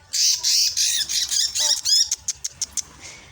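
Several birds squawk loudly and close by, in harsh overlapping calls that break into a run of short, sharp squawks toward the end.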